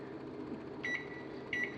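Two short, bright electronic beeps come from the control panel of a non-convection kitchen oven in a Dallas condo as the timer is set. They sound about half a second apart over a low, steady room hum.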